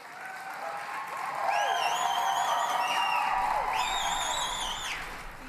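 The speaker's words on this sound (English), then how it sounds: "the decision was met with thunderous applause" Chiefs at an assembly applauding after a vote on a child welfare resolution: sustained, fairly distant clapping that swells and holds steady, with a few whoops and tonal squeals over it.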